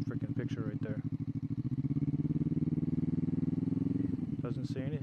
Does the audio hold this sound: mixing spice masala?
no